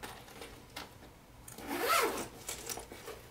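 A bag zipper on a sewn handbag being pulled open, a short rasping run that swells to a louder, brighter burst near the middle before trailing off, close and alone without speech.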